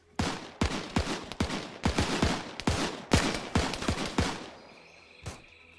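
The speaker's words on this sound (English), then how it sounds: "Those guys shooting each other" Rapid exchanges of gunfire between soldiers in Arma 3, a dense string of sharp close shots in irregular bursts that stop abruptly, followed by one last isolated shot.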